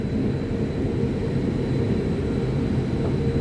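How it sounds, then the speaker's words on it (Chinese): A Gulfstream G450 private jet taxis along a taxiway at Taipei Songshan Airport, its engines producing a steady, low rumbling roar with no voices present. "这私人喷射客机啊！"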